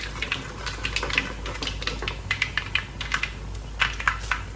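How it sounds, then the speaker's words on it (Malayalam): Mustard seeds pop and crackle in hot oil in a pan, a dense run of sharp little bursts close up over a steady low hum, with no talking. "ഈ കടുകൊക്കെ പൊട്ടേ"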